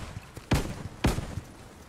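Two sharp gunshots from a video game, about half a second apart, cut through a quiet, noisy background, with faint footstep-like clicks between them.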